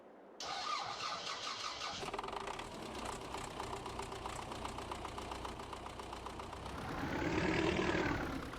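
A small 32-horsepower tractor engine in Farming Simulator 22 starts up and runs steadily with a mid-pitched rumble. It swells louder near the end, and no one speaks.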